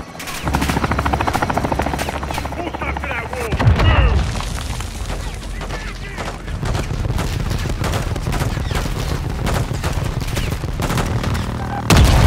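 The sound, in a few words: helicopter gunfire run on a building in the video game Modern Warfare II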